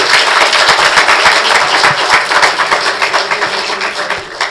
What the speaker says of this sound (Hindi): इसके लिए तो ताली होना चाहिए सर आपके इन्विटेशन के